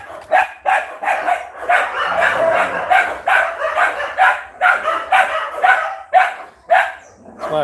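Several dogs bark repeatedly nearby, a dense run of overlapping barks with brief pauses between bursts.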